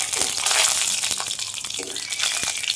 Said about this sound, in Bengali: এবার তেল গরম হয়ে গেছে, এবার আমি দিয়ে দিলাম গরম মশলা, গোটা গরম মশলা তেলের মধ্যে দিয়ে দিলাম